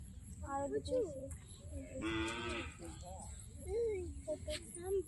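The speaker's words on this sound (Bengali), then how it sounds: "ও জনেকে গরু নিয়ে যাচ্ছে" Cows moo repeatedly at close range, long low calls rising and falling, with people talking in the background and some faint clucking.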